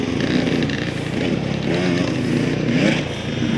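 A motorcycle rides around a nearby open field, its engine buzzing in a steady, moderately loud drone with slight surges as it moves past.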